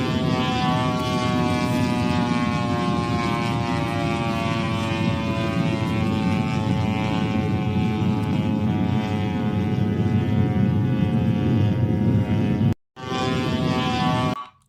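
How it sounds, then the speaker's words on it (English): A steady droning engine with a strong harmonic whine, like a drone or propeller aircraft, holds loud and continuous over northern Israel, then cuts out briefly near the end. "what we're going to see here is lots of drone action and some Israeli warplanes as well taking down some of these drones over northern Israel"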